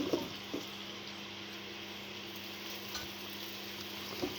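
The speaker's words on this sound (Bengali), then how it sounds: "এটার সাথে নাড়াচাড়া করে মিশিয়ে নিচ্ছি।" Mango pieces stirred into melted sugar in a pan for a Burmese-style mango pickle, giving a soft, steady sizzle with a few faint scrapes of the spoon against the pan, alone and without talk.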